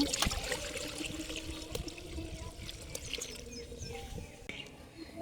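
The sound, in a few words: water poured into a wok to boil potatoes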